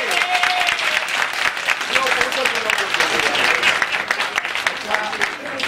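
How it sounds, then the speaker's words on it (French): An audience at a gathering with a member of parliament and the Wê community in France claps continuously for several seconds, broad and even, with faint voices mixed into the crowd noise. "je veux vraiment que vous fassiez un pas pour eux, pour les applaudir"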